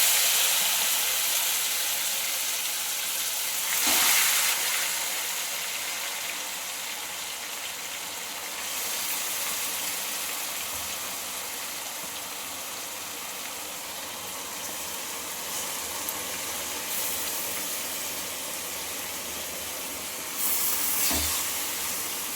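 Sugar-coated mango pieces for pickle cooking in a wok, giving a soft, steady hiss and low sizzle throughout, with a few faint stirring bumps.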